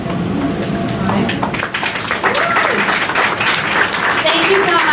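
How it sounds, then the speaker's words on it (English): Applause from a conference audience at the end of a talk, a dense patter of clapping mixed with a presenter speaking over it. "another round of applause to Talia"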